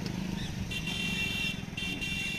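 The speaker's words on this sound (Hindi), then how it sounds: "मोटरसाइकिलें निकलने लग गई है इसमें।" Motorcycles and other traffic move along a road over a broken culvert that is still under construction, a steady engine rumble with a faint horn-like tone on top, dense and continuous throughout.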